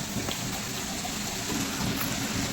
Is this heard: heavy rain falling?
yes